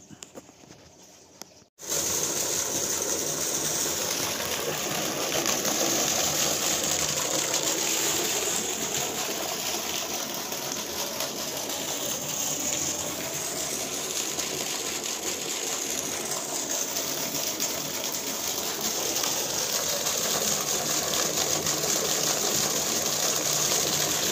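A 5 hp PMSM solar pump drives a full 2-inch stream of water from a 550 ft borewell, making a loud, steady rushing gush that starts abruptly after a brief quiet and runs on without a break.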